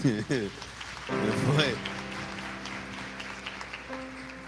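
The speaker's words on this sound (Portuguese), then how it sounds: "dando uma salva de palmas bem forte para Jesus" Applause at a church service rustles steadily as a dense wash of clapping, while voices sing and speak over it.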